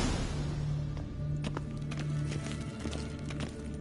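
Rhythmic hoofbeats of a galloping horse in a video game clatter over a steady hum, with a soft whinny-like tone early on.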